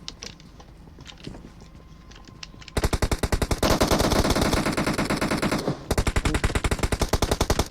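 Automatic gunfire in the video game PUBG: quiet background clicks, then loud, rapid continuous bursts that pause briefly and resume, with no voices.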